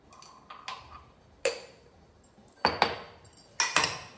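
A spoon clinks and scrapes against a bowl while curd raita is stirred with salt, a few sharp, sparse taps and knocks spaced out over a quiet background.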